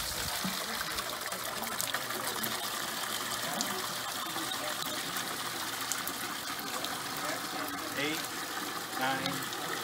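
Water gushes and bubbles steadily through a Ford Model A radiator during a flow test, a constant splashing trickle with an engine or pump hum underneath and people talking over it.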